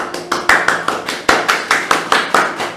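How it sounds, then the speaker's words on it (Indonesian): Applause welcoming a guest on a career-guide podcast, a small group clapping in a steady, fairly close burst of distinct claps with no talking over it. "Tepuk tangannya"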